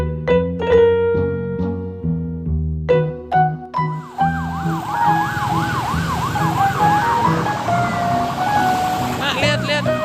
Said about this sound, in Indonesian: Mobil polisi.